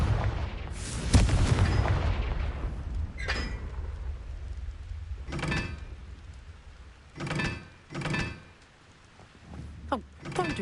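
Fire blast spell explosions in Hogwarts Legacy: several booming blasts, one large rumbling burst followed by shorter thudding impacts spaced a few seconds apart, alone.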